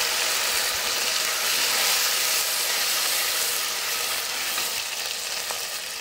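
A wet paste of ground tomato, onion, ginger and garlic sizzles loudly and steadily in hot oil with whole spices for egg biryani, a dense continuous frying hiss with faint stirring, no voices.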